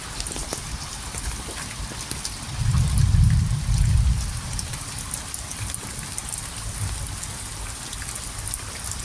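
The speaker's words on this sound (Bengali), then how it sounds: "তবে আজকের বৃষ্টিটা অনেক বৃষ্টি হয়েছে, অনেক ভারী বৃষ্টি।" Heavy rain pours down steadily outdoors near a fish pond, a dense continuous hiss of drops on surfaces with a brief low rumble partway through, and no voices.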